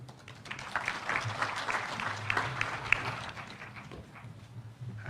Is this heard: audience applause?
yes